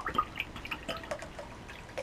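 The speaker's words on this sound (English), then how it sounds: "As I pour me some water" Water poured into a glass: a faint, brief trickle with a few soft drips, heard up close and alone.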